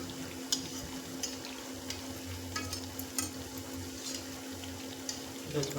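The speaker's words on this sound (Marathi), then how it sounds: "या तेलामध्ये मी अजून एक वडा सोडला आहे" Medu vada, a soft urad dal fritter, fries in hot oil with a quiet, steady sizzle, punctuated by a few light clicks and small spatters at close range.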